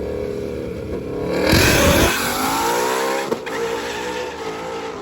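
A drag race car with a freshly rebuilt engine makes its pass during race week, a loud sustained engine roar that swells and sweeps as it accelerates, with a tire chirp partway through and no talk.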